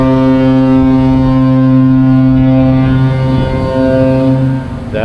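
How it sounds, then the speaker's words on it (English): A ship's foghorn sounds in foggy weather at sea aboard the Carnival Paradise cruise ship, a loud, steady, deep harmonic blast sustained for about five seconds, close and dominant, with no talk. "That is what you call a foghorn."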